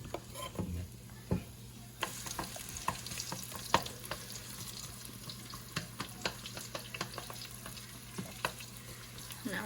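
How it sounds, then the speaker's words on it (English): Shallots frying in oil in a large pot over medium heat for Vietnamese braised fish, a steady soft sizzle with scattered crackles and pops running throughout, fairly quiet with no talking. "We're going to add shallots."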